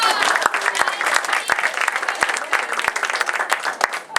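Audience applause at an improv and monologue workshop: a dense burst of many hands clapping, fairly close and steady for about four seconds, with a few sharper individual claps standing out.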